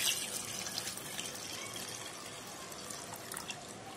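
Milk poured into a mixer jar over ice pieces for a chikoo milkshake, a soft steady liquid trickle and splash, faint and close, with no voices.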